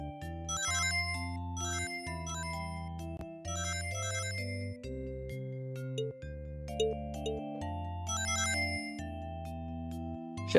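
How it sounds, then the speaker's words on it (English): A mobile phone ringtone plays a bright, tonal electronic melody in repeating phrases, looping steadily for several cycles at moderate volume with no talking over it. "Shit, I forgot to silence my phone."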